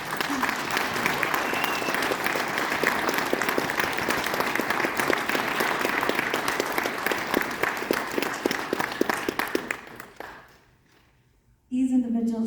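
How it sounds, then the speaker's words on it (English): A crowd at an honor society ceremony applauds steadily for about ten seconds, dense and sustained clapping that then fades out, followed by a brief voice. "Let's give them a round of applause."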